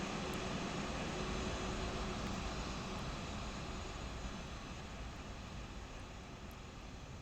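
A Delta Airbus A320 taxis with a faint, steady engine hum and rumble that holds constant and fades slightly toward the end. No voices are heard.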